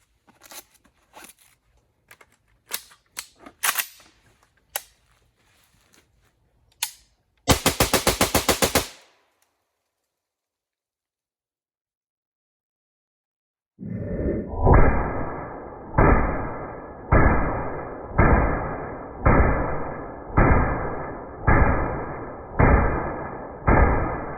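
AK-47 rifle fired with a Definitive Arms Fighter Brake muzzle device outdoors: a first stretch of scattered sharp shots and a short rapid burst, a pause, then a steady string of about ten loud evenly spaced shots.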